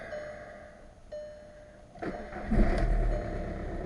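A Skoda Fabia engine cranking and catching, a low burst of starter and ignition noise after a quiet, hum-filled opening, settling into a steady idle.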